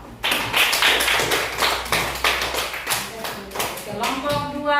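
A classroom of students claps hands in rhythmic bursts, loud and close, with a voice speaking briefly near the end as the clapping trails off.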